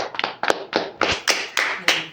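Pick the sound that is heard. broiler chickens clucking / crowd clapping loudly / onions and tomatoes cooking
crowd clapping loudly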